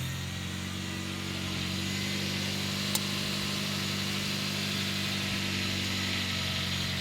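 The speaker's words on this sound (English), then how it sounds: "so I'm gonna fire the car up" A car engine runs at a steady idle throughout, a dense mid-low rumble close by with a single faint click partway through, no voices.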